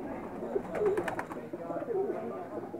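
Female pigeons coo nearby in a loft, two soft, low throaty coos a second apart, with faint background murmur.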